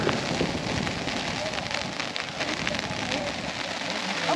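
Steady rain patters on surfaces during a rainy day around a historic train ride in Alberta, a dense continuous hiss close by with faint voices underneath.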